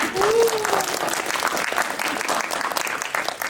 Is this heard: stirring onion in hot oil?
no